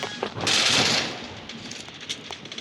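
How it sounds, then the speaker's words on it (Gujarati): A single firecracker bursts on Diwali night as a sharp, moderately distant crack that fades into a noisy background. "બોમ્બનો અવાજ આવે છે આજ દિવાળી છે આજ તો બોમ્બનો અવાજ આવશે જ"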